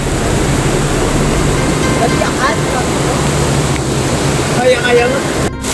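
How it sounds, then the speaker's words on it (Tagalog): Floodwater in a swollen river rushes in a loud, constant roar that fills the whole stretch, with faint voices and a few brief tones emerging over the torrent. "grabing baha na ito guys"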